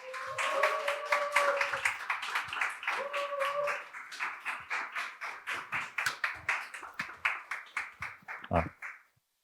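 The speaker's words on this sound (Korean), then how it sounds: "여러분 큰 박수 부탁드릴게요" Clapping from a youth church audience at a career lecture welcoming the guest speaker, starting with a voice or tones underneath, then settling into a slow, rhythmic unison clap that speeds up slightly and stops abruptly.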